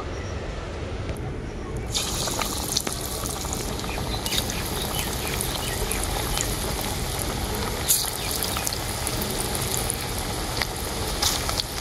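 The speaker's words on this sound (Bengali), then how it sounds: "এগুলো তেলের মধ্যে হালকা করে ভেজে নেব" Onion fritters (peyaji) fry in hot oil, giving a dense, steady crackling hiss that fills the whole stretch and stays even and moderately loud throughout.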